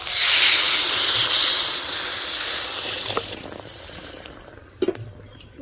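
Water poured into a hot pan of puti fish curry with potato, eggplant and lentil dumplings gives a loud burst of hissing steam that slowly fades to a gentle simmer, with a few utensil clinks near the end.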